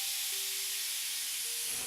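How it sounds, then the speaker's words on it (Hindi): Steam hissing steadily from a pressure cooker cooking raw mango (kachchi kairi) on a gas stove, a broad continuous hiss with a thin whistle-like tone rising faintly midway, alone and fairly quiet throughout. "अब इन कुकर की 1 सीटी आएगी है"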